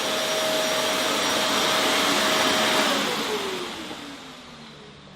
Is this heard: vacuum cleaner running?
yes